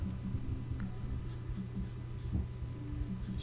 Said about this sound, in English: I'm just coloring the whole stick right now